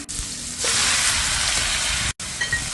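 Cabbage shoots tossed with cooked minced pork in a hot pan, a steady loud sizzle and hiss running almost throughout, with one brief break near the end.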